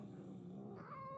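A cat in the video game Murdered: Soul Suspect lets out a single faint, drawn-out meow, rising into a whiny tone near the end.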